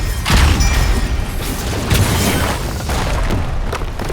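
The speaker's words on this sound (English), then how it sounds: "Payload firing on enemy core." Heavy booming weapon fire from a payload striking the enemy core in a video game, a dense, loud rumbling barrage of blasts and crashes continuing without a break.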